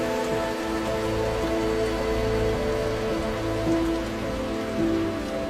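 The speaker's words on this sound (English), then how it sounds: "It can rain constantly here for weeks at a time." Heavy monsoon rain falls steadily in Suncheon Bay, Korea, a dense, continuous patter on surfaces at an even level throughout, heard without any voices.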